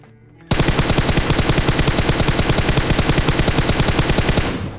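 Rapid automatic gunfire from a shooter video game, a loud sustained burst of closely spaced shots starting abruptly after a brief quiet moment and running continuously to the end, with no talking.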